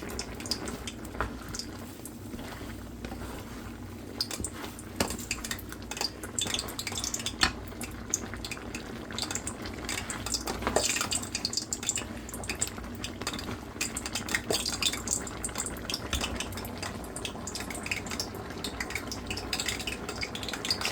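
Pork adobo with onions being stirred in a pan, a steady texture of utensil scraping and clinking against cookware with a soft sizzle underneath, continuing throughout without talk.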